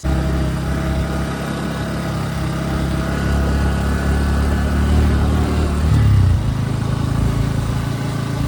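Two motorcycles, a Bajaj Pulsar NS and a Hero Xpulse, ride along a mountain road in Arunachal Pradesh, giving a steady mid-pitched engine drone with wind noise and a brief rise in revs near the end.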